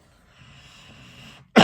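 A single loud, sharp cough bursts out right at the end, following a stretch of faint, quiet room tone indoors.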